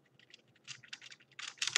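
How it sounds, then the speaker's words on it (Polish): Computer keyboard typed on in quick irregular bursts of close, crisp key clicks, growing busier and louder toward the end with no talking. "Ja siedzę w słuchawkach i słyszę tu klawiaturę"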